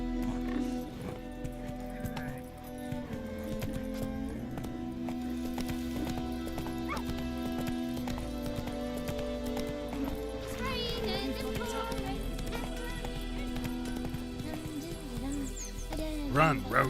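Roach the horse galloping in The Witcher 3, rhythmic clip-clop hoofbeats running under a steady game music score, with occasional whinnies and someone talking over it.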